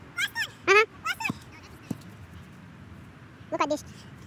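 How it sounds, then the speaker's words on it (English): A dog yips and barks at a soccer practice outdoors, giving a few short, sharp bursts early on and another cluster near the end over a quiet background. "Look at this dog."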